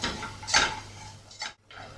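A utensil stirs caramelizing sugar in a pan, giving soft scraping clinks against the metal with a couple of sharper taps, close and quiet with no talking.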